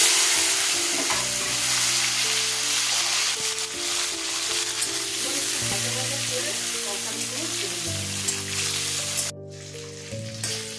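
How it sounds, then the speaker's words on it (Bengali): Tomatoes and green chillies fry in hot oil with a dense, continuous sizzle and occasional stirring, over a faint steady tonal hum, until the sound drops sharply near the end. "দেখুন টমেটোটা ভাজা ভাজা হয়ে গেছে"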